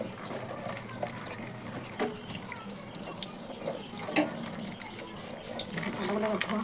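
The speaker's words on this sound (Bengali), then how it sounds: "পাতাগুলো ধোয়া হয়ে গেল।" Leaves being washed under a running kitchen tap: a steady stream of water splashing into a sink with scattered clatters and handling noises, fairly close, the flow building louder toward the end.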